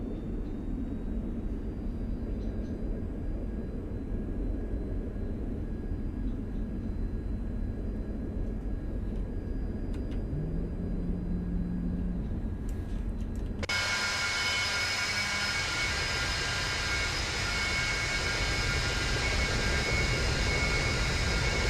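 A Cessna Citation II jet's engines in the X-Plane 11 flight simulator hum steadily in the cockpit, then thrust increases and the sound jumps abruptly to a louder, brighter roar that holds to the end.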